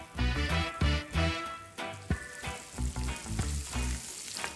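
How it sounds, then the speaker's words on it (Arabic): Asparagus spears sizzle loudly in a hot pan while being stirred, the continuous close frying hiss punctuated by repeated clacks and scrapes of the utensil against the pan. "هون عم نخلط نحن حبات الأسبرج"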